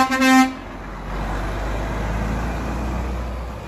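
A toy container truck gives a single short electronic horn toot at the start, followed by a soft steady hiss of background noise.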